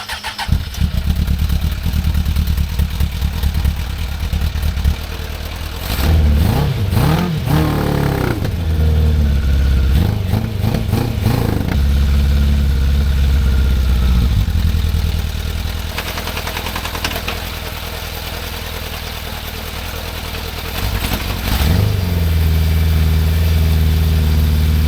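Loud, close engine of the Venture 16 running rough, rising briefly to a high rev and then dropping back to a steady lower idle, with a few more surges and dips across the clip and no talk over it.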